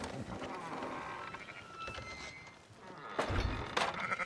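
A sheep in a video game, Red Dead Redemption 2, bleats faintly a few times amid low background noise and thuds, with a short, wavering cry standing out near the end.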